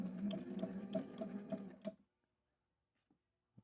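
A Sailrite sewing machine stitches a fabric sample in a fast, even run of mechanical clicks for about two seconds, then stops, leaving near silence with a couple of faint taps.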